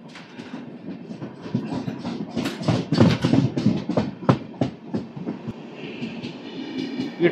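The 12795 Vijayawada–Lingampalli Intercity Express passes on the adjacent track beside a halted train in a station loop, a rhythmic clickety-clack of wheels over rail joints rising and falling at moderate distance.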